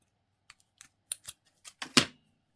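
Scissors snip through lace in a handful of short, close, crisp cuts, building to one louder final snip near the end, with quiet pauses between.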